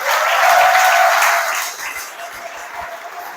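An audience at a French political rally claps for campaign volunteers, a fairly loud burst of applause that swells and then fades to scattered clapping.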